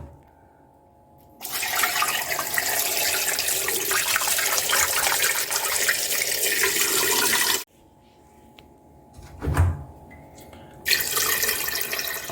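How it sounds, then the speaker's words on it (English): Water gushes from a tap into a pot holding pieces of parsnip, loud and close, in two separate runs with a short quiet pause between them. "we're just going to top it up with water"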